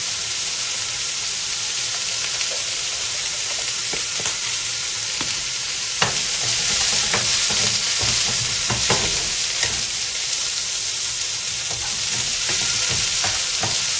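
Steak frying in a pan for a Korean-style dish, a steady close sizzle and crackle with occasional scraping stirs and louder pops, no talking.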